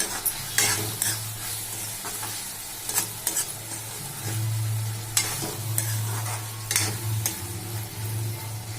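Veg fried rice being stirred and fried in a pan, with steady sizzling under repeated scraping strokes of a spoon against the pan, close and moderately loud, no talking.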